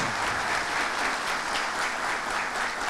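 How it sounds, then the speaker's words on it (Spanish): An audience applauds steadily at a foundation's second-anniversary conference at UASD Higüey. The clapping is dense and even, filling the room at a constant level for about three seconds without a pause. "Yo le voy a pedir un aplauso a ustedes que se quedaron ahí sentados"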